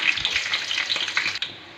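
Garlic and urad dal fry in a pan, a close, continuous crackling sizzle with light stirring, heard alone without voices.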